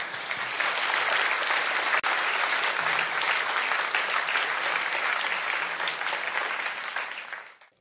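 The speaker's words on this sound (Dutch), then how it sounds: "Geef ze nog een hartelijk applaus" Studio audience at a talk show applauding steadily and loudly for several seconds, a dense even wash of clapping that fades out at the end.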